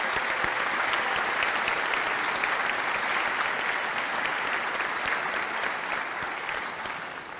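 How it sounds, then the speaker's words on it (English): Steady, loud applause from an audience at a high school scholarship event fills the whole stretch, dense clapping that tapers slightly at the end. "A round of applause for those two, please."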